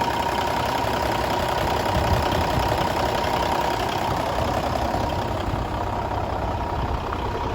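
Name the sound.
Cummins diesel engine idling in Kenworth T800 truck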